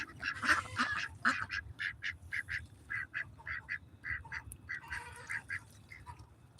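Farm ducks quack in a rapid, repeated series of loud nasal calls, close by and alone, with a few overlapping bursts near the start and later.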